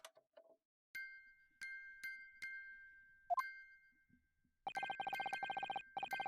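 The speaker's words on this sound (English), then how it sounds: "Just what relevance do you propose this woeful chiming has on the case?" Music box chimes from the video game The Great Ace Attorney: a few sparse, sustained bell-like plinks, then a rapid, steady run of repeated chiming notes, clear and alone with no talk.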